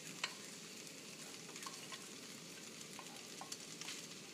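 Chorizo and bacon bits sizzle in a hot pan, a continuous crackle with a few sharper pops and faint scraping as the meat is moved, close and on its own without speech.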